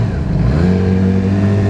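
A Yamaha R6 motorcycle engine warming up revs close by, rising into a loud, steady, high buzzing tone.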